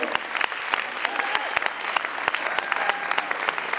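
An audience at a Purim shpiel claps steadily, a dense crowd applause with sharp individual claps standing out, loud and continuous for a few seconds.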